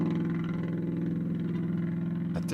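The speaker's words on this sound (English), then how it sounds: "That V8 did not sound happy." A V8 engine missing an exhaust pipe runs loud and steady nearby with an uneven, lumpy throb, idling roughly rather than revving cleanly.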